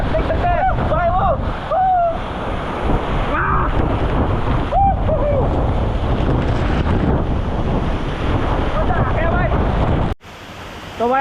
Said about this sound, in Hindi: इतना ऊपर से पानी गिर रहा और इतना हवा मार रहा ना भाई